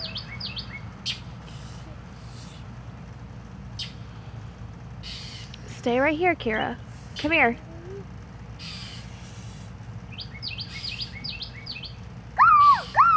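Wild birds near their nest let out a few sharp, harsh caws and chirps in short bursts over a steady outdoor background hum, while a person speaks nearby.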